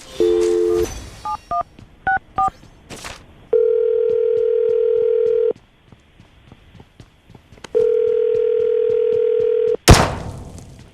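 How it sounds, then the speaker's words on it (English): A phone is dialed with short tone beeps, followed by two long ringback tones separated by a pause, then a click as the line connects. "I'm going to dial the phone number right now"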